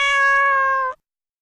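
A cat-meow ringtone for a text alert sounds as one loud, clean, drawn-out tonal meow lasting just under a second, then cuts off abruptly into silence.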